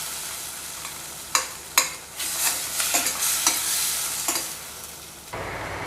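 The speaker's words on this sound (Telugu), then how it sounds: "ఇప్పుడైతే టమోటాలు మగ్గినాయి కదా" Tomatoes cook in a pan for mint chutney, giving a soft sizzle broken by several sharp scrapes and clinks of a spoon stirring, close and clear.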